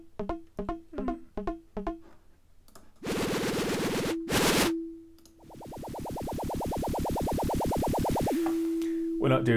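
An Ableton Operator synth patch producing electronic sci-fi tones: a run of short plucked blips, then two harsh noisy bursts, then a long buzzing pulse that warbles rapidly before settling into a plain steady tone.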